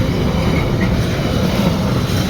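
Freight train hauling containers rolls past the Noose Lane level crossing, a loud steady rumble with continuous wheel noise and faint clatter, close by and unbroken throughout.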